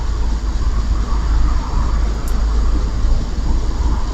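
Cars pass by at a distance, merging into a steady low roar that resembles a plane overhead, loud and continuous with no talking.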